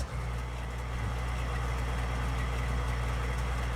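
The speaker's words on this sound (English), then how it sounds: "Gotta start the engine." A combine harvester engine in Farming Simulator 19 runs at a steady idle, a constant low rumble with a faint mechanical hum, close and unbroken, with no voices.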